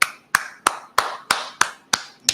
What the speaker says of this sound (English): Everybody clap it up